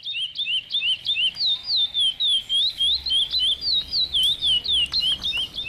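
Curió, the chestnut-bellied seed finch, sings close and loud, a rapid run of bright whistled notes and trills repeating in quick regular phrases over faint background noise.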